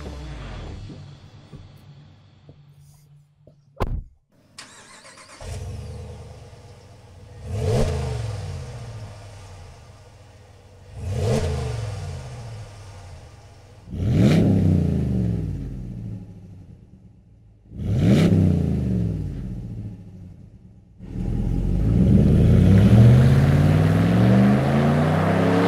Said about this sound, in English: Now let's take our truck for a drive and see how we did.